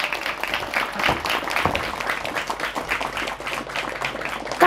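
A crowd at an Islamic religious lecture applauds in honor of santri and pesantren, a dense, continuous wash of clapping with some voices mixed in, holding steady for several seconds.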